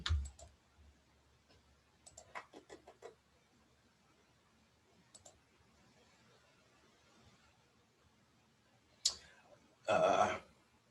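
Scattered computer mouse clicks on a desk, a few isolated ones and then a quick cluster, fairly quiet, followed by a louder burst of clicking near the end, with no talk.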